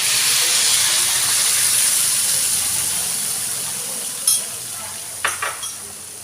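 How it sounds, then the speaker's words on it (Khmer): Mixed seasoning hits a hot pan for beef stir-fried with peperomia, setting off a loud, broad hissing sizzle that slowly eases, followed by a few light clinks near the end. "មកទៀតគឺយើងយកគ្រឿងដែលយើងបានលាយចូលគ្នានេះចាក់ចូលទៅបងប្អូន"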